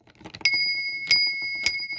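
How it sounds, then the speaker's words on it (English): A small metal bell on a Trackmaster motorized toy train set rings three times in sharp, bright dings, each leaving a short ringing tail, close to the listener with light handling clatter between strikes. "This bell's actually really cool. I could easily just use it as like a Toby close-up bell. Just ring it."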